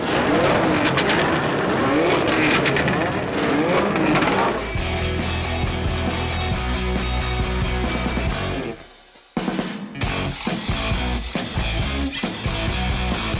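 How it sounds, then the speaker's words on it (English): Engines revving together at a car show, a loud sustained roar of several motors with pulsing throttle swells. A brief drop near the end is followed by renewed revving. "about to rev up all the engines at the same time"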